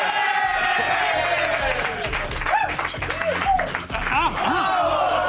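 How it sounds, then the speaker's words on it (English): A studio audience on a TV show claps and cheers continuously, with whoops over the applause and hosts talking loudly over it throughout. "Another round of applause for me."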